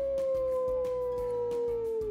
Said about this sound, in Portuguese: É o lobo. Um som comprido,